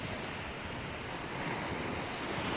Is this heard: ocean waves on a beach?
yes